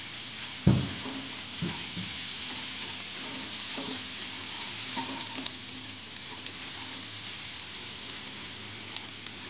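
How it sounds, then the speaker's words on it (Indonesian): Ground spice paste sizzling steadily in hot oil in a pan, a continuous frying hiss with a few soft stirring knocks near the start. "Sekarang akan saya goreng bumbu halus sebentar."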